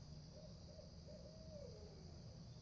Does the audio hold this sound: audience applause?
no